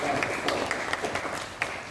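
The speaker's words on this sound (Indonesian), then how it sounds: "tepuk tangan dulu untuk Haliza dan Salma" Classroom applause for two students: a modest patter of claps at moderate volume with a few sharper individual claps standing out, continuing steadily throughout.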